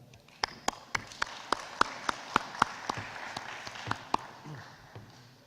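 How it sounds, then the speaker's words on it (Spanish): At a welding conference, a few attendees clap to welcome a speaker, sharp, evenly spaced individual claps standing out over a faint, sparse background of other hands, fairly close and distinct. "Le damos la bienvenida con un fuerte aplauso,"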